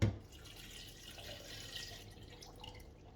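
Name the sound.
water poured into lime, mint and sugar juice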